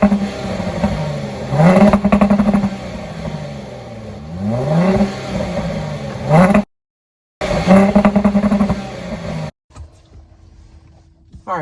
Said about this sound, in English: let's go ahead and take this XE for a spin and hear how she sounds.